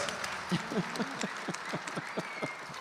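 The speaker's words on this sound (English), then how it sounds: "Clap like this." Rhythmic, evenly spaced claps from a crowd at a live country music charity concert, steady and moderately loud over a noisy background of cheering and music.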